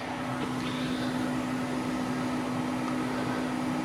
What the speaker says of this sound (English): so it's just basically an oven, and you can use an oven if you want